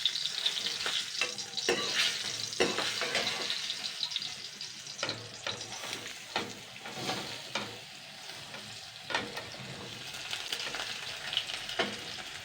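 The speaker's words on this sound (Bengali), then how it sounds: "এইবার আমি কাঁচা টমেটো আর মুসুর ডালটা জাস্ট আমি আগে 2 মিনিট মতন হালকা একটুখানি নেড়ে চেড়ে নেবো, একটু হালকা আর কি ভাজা মতন করে নিতে হবে" Raw tomatoes and washed red lentils are stirred and lightly fried in a hot pan, giving a steady close sizzle broken by repeated scraping strokes of a spatula, with no talking.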